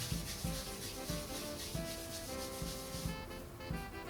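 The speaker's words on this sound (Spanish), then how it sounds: "Nos enharinamos un poquito las manos." Floured hands rub together over bread dough for ciabatta, making soft, repeated dry scuffing strokes at close range with no one talking.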